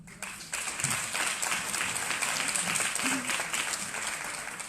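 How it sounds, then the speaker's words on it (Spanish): A seated audience at a panel session on the National Guard organic law applauds a speaker, producing a thick, sustained wash of clapping that swells after a quiet start and holds steady. "Démosle un fuerte aplauso a la doctora Lisbeth Xochitl Padilla Sanabria."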